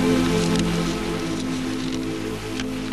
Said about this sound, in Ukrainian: До того ще й дощ іде